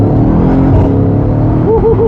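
A Mercedes GLS 63 loaded with four people accelerates hard from inside the cabin, its exhaust roaring loud and continuous with a rising engine drone and a gear-change pitch sweep near the end.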